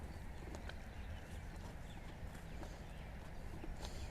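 Faint, steady clip-clop of hooves as a horse walks at a slow pace, with low rumbling background noise.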